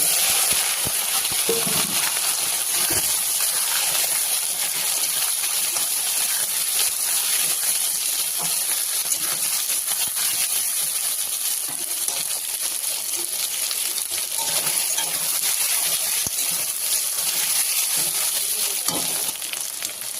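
Taro pieces fry in a pan with shrimp, cumin, dried red chillies and bay leaf, giving a steady close sizzle and hiss with occasional stirring clatter throughout.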